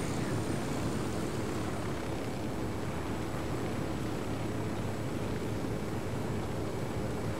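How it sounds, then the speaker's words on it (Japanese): Sustained broadband roar of a helicopter in flight in the game Ghost Recon Wildlands, an even, unbroken engine-and-rotor drone at steady loudness for several seconds, with no voices. "やっぱヘリコプターの方が全然早い"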